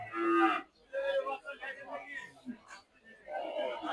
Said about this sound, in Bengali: এখানে অনেকগুলো গরু আছে